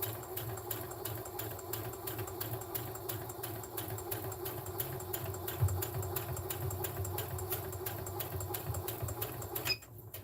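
Sewing machine stitching a lined drawstring bag, a continuous rapid even needle rhythm running close up, ending with a short backstitch.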